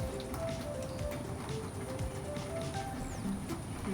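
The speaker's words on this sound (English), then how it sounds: "Raining guys, it is raining as you can see" Steady rain falling outdoors, a continuous dense patter of drops on surfaces, close and even throughout with no speech.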